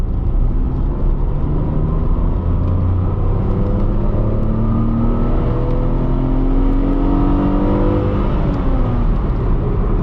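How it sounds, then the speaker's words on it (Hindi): An AMT automatic car's engine is held at full throttle, a loud, steady revving drone that climbs in pitch, dips at an automatic upshift and climbs again, heard from inside the cabin. "ये देखिए मैं अब पूरा एक्सीलेटर पेडल प्रेस करने वाला हूँ।"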